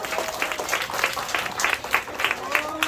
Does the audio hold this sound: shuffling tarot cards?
no